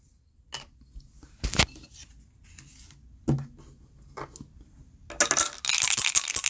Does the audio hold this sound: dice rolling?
yes